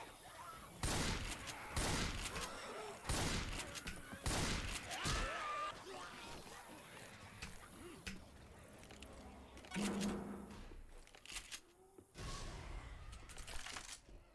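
Bursts of gunfire from the zombie shooter Left 4 Dead 2, loud rapid volleys in several clusters across the span with short gaps between, game effects and occasional voices around them.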